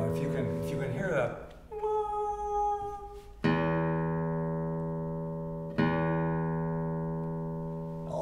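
An open string on a microtonal classical guitar rings out, struck twice with long sustained harmonic overtones decaying slowly, following a brief strummed passage at the start.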